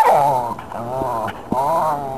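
A puppy makes a close, loud, drawn-out growl that rises into whiny, yippy tones, broken by two brief pauses.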